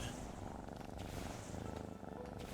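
A cat in a video game purrs steadily and softly, a close, rhythmic rumbling that continues without pause and with no voices over it.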